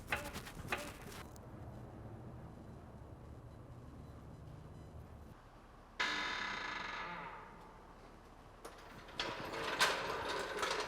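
A jack raises a 1965 Impala in a series of steady mechanical ratcheting clicks, fairly quiet and close, with a brief hissing burst partway through.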